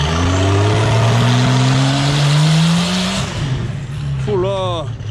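A V12 bi-turbo engine fitted in a Citroën Traction revs hard and loud, its rising harmonic pitch climbing for about three seconds before the throttle drops back; a brief voice cuts in near the end.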